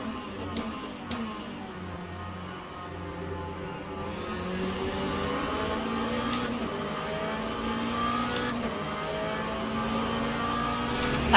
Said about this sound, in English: having the Hypercars side by side as they come to pass us